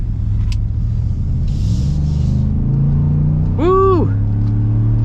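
A Ford F-150 FTX V8 engine rumbles and revs up, the low throaty growl rising steadily in pitch as it accelerates, heard from inside the cab, with a brief chirp near the end.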